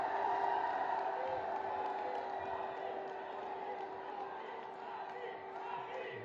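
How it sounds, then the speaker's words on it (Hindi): A large crowd at an outdoor political rally in Firozabad roars and cheers through a public address system, a continuous, distant-sounding mass of voices with a steady amplified hum beneath it. "आप सबकी जोरदार तालियों के साथ"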